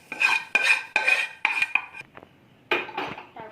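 A metal spoon scrapes and clinks against a pan, mixing a potato filling in a rapid series of short, bright strokes, with a brief pause before a few final stirs.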